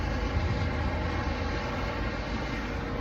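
Airbus security helicopters flying overhead at a launch site, a continuous broad rotor and engine rumble, steady and moderately loud, with no talk.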